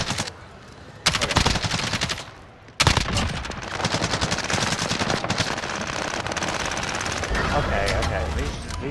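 Rapid automatic gunfire rattles nonstop while players shoot at zombies in Call of Duty, dense bursts of shots broken by brief gaps, with players talking over the shooting.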